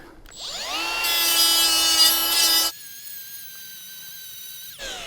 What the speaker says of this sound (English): And all you're doing is grinding the head of the rivet off.